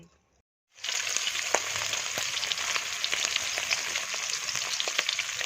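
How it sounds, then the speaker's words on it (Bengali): Fish frying in oil in a home kitchen, a steady dense sizzle with scattered crackles and pops that starts abruptly after a brief silence and continues close and loud. "মাছ ভাজা চলছে"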